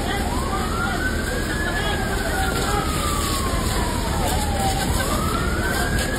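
A fire truck siren wailing at a fire in a vacant lot on Antipolo Street, Guadalupe Nuevo, Makati City, a continuous rising-and-falling wail over a steady roaring background, loud and sustained.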